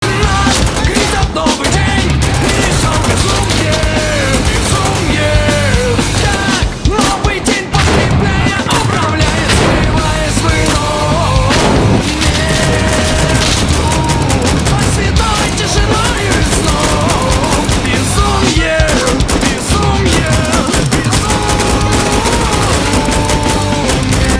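AKM assault rifle chambered in 7.62 firing in the video game Insurgency Sandstorm: loud, dense bursts of gunfire and booms packed continuously together with heavy thuds, with game music and effects mixed in throughout.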